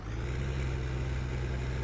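A tractor engine in Farming Simulator 2015 runs with a steady, throaty low drone, even and moderately quiet, with no change in pitch and no voices present.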